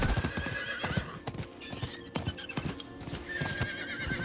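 Hooves of a horse mount in Diablo 4 clop in a quick, regular rhythm, close and clear, with a whinny heard over the galloping.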